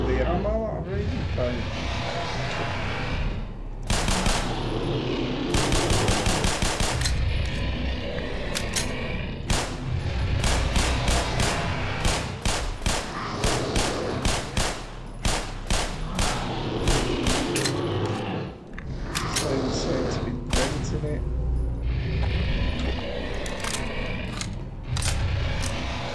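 Gunfire in the Black Mesa video game: repeated bursts of loud, rapid-fire shots in long volleys, interspersed with single shots and game noise, with someone talking over much of it.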